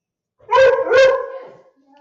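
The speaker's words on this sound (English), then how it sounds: "That's why he's barking." A ranch dog barks twice in quick succession, loud and close, then falls quiet.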